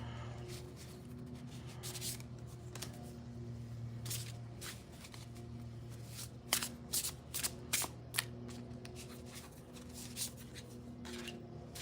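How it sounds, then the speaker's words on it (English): Oracle cards are shuffled and drawn by hand: soft, close riffling and brushing with scattered light taps as cards slide and are set down, quiet and without talk. "I'm gonna do 3 oracle cards. for us to just kind of look at and think about"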